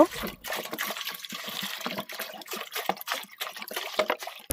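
Water poured from a bottle into a basin splashes and trickles steadily for several seconds, close and fairly loud, with a brief voice near the start.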